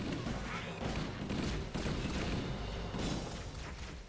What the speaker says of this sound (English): No, stop shooting at me.